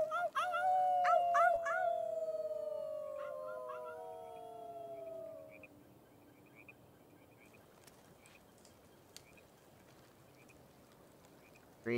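Characters in the video game Life is Strange 2 let out long, wavering wolf-like howls, several overlapping voices imitating wolves, loud at first and then fading into quiet ambience.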